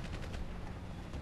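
Gunfire aimed at the player in the online shooter Battlefield Play4Free, a dense continuous rattle of shots filling the whole short moment without a break, with no voices over it.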